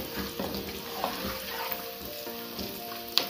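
Pieces of fried chicken being stirred in a pan for Sri Lankan devilled chicken, a steady soft sizzle with scraping stir strokes and a sharp clink near the end, no talking.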